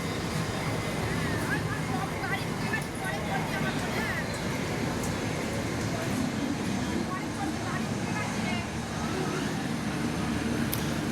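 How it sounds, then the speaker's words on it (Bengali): The Howrah-Dehradun Kumbh Express, train 12369, pulls slowly into a station with a steady, loud rumble of wheels and carriages, while voices murmur through the busy platform noise. "তো স্টেশনে চলেও এসেছি, ট্রেনও ঢুকছে আস্তে আস্তে আমাদের"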